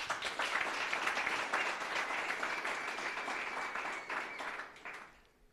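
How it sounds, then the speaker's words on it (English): An audience at a performing arts programme event applauds steadily for about five seconds, a dense wash of many hands clapping at fairly close range before it thins out and fades at the end. "Just give yourself a round of applause."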